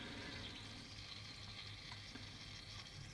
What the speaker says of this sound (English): you may be able to hear it sort of fizzling and bubbling away as the water obviously is heating up